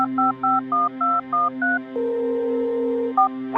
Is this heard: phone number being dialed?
yes